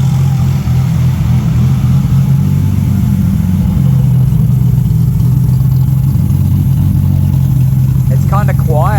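A freshly built forged Nissan RB30ET turbo engine idles steadily after its first start, a loud, even low rumble with a faint squeal near the end.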